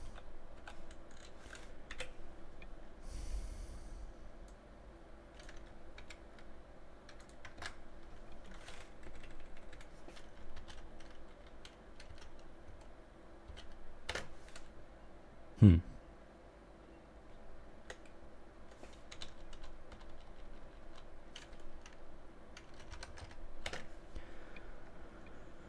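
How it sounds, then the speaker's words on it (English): Quiet computer keyboard typing, soft scattered key clicks spread across the stretch, with a louder knock partway through and some low background noise and occasional speech. "Let's see if I can type this out."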